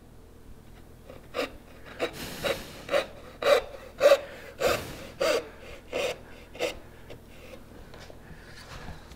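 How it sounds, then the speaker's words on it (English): A hand saw cuts a dovetail kerf in wood, about ten loud rhythmic rasping strokes that build and then ease off, close and alone with no speech. "You got to let the kerf that you started control the cut."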